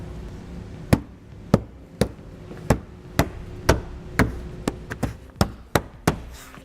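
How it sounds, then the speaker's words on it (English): A plastic trim panel is pushed back into place in a 2017 Jeep Cherokee, a series of about a dozen sharp, close knocks and snaps at an uneven pace. "We can get our panel pushed back in."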